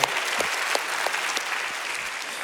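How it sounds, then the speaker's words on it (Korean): A church congregation at a Saturday dawn service applauds its pastors, a steady wash of many hands clapping, moderately loud and continuous, with a few sharper individual claps standing out. "우리 박수로 격려했으면 좋겠습니다"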